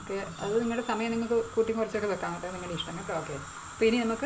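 A soft, steady hiss of steam from a puttu steamer cooking rice puttu runs beneath a person talking close by.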